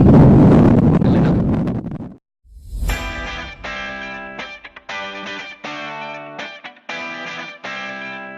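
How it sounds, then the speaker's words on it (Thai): Strong wind by the sea buffets the microphone in a loud, rumbling roar for about two seconds, then gives way to a choppy series of distorted, clipped bursts. "ลมแรงนะเนาะ"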